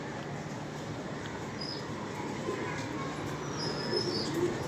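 Pigeons coo in short, soft bursts close by, with a constant low background hum underneath and no clear talking.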